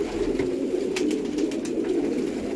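Pigeons cooing indoors in a room where many are kept, a continuous low throaty warble that overlaps from several birds at close range.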